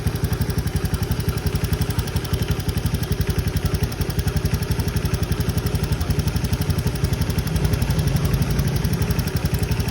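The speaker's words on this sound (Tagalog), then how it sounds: "paandarin ko yung motor." A motorcycle engine, freshly fitted with a universal spark plug cap, runs at a steady idle with a fast, even pulsing thrum and some mechanical clatter, close and loud throughout with no voices.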